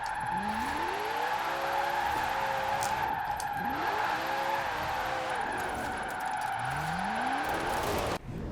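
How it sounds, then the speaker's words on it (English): A Koenigsegg in Forza Horizon 4 drifts with all-wheel drive, tires squealing in repeated long sweeping arcs over a steady high engine drone, loud and close throughout. "It's a little bit all-wheel drive drifting here."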